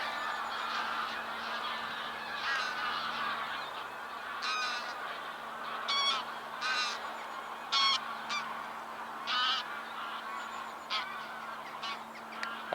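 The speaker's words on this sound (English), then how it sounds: "That's a lot of geese." A large flock of geese honks near a river on a moor, repeated nasal calls overlapping in uneven bursts over a steady background hum, with no one talking.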